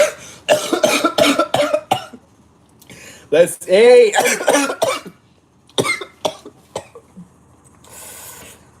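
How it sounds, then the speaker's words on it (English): A string of sharp coughs close to the mic, followed by a voice speaking briefly and a few more short bursts. "I used to cover my mouth when I cough"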